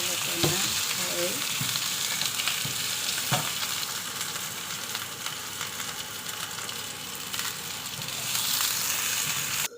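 Potatoes fry for beef curry in a pan, a loud, dense, steady sizzle with a few scraping stirs and clicks of a utensil, close up and continuous without talk.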